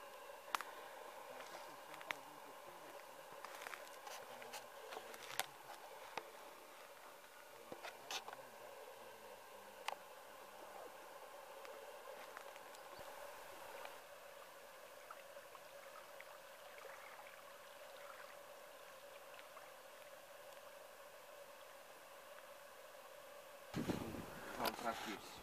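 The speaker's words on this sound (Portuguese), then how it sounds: "hoje é que foi bom acordar aqui com a chuva a bater na lona" Rain patters on a tent tarp at a campsite by the Marateca reservoir: a soft, steady hiss dotted with faint irregular drop taps, with a louder rustle near the end.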